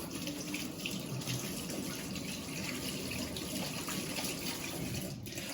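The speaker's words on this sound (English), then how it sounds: "Let me wash my hands." Hands being washed under a running kitchen tap, a steady close splash of water flowing into a sink with small shifts as the hands move, with no talk over it.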